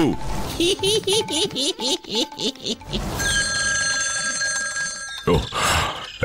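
A cartoon telephone rings with a loud, steady electronic bell tone lasting about two seconds. Before it, a cartoon voice chatters with a laugh-like lilt, and a short thump follows the ring.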